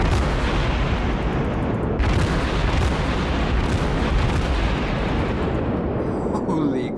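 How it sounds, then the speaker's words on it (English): Heavy naval cannon fire from World of Warships, a dense continuous barrage of booming gunfire and explosions filling the whole stretch at high loudness, with a man's brief exclamation over it. "That is a lot of cannon."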